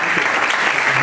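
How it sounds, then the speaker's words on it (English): An audience at an education forum breaks into steady, dense clapping, a brief burst of applause filling the room. "maybe I would invite you just to give him a hand of applause"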